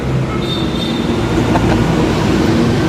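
A Manila MRT metro train rumbles loudly and steadily from inside a car, with faint wheel squeal and rail clatter over the constant roar.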